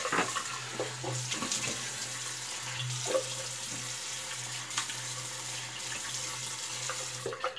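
Tap water running steadily into a sink to rinse during a wet shave, a close continuous splashing wash with a faint low hum pulsing beneath, no voices.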